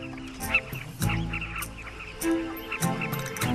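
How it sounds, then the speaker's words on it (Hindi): Birds in a commotion beside a river, a dense, continuous mix of honking and quacking calls that overlap in a loud, busy chorus. "थोड़ी दूर कुछ पक्षियों में हड़कंप मच गई है।"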